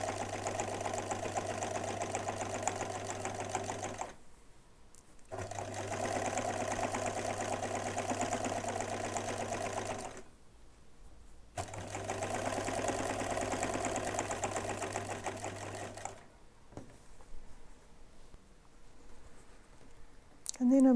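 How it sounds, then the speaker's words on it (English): A sewing machine stitches down a fabric bunting strip in three steady whirring runs of several seconds each, separated by brief pauses, close and even in tone. "I'll just sew down the strip and see how it goes."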